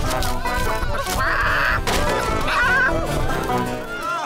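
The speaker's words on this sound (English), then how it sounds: "Catch that chicken!" Cartoon chicken clucking and squawking in short excited bursts over busy, loud background music and effects.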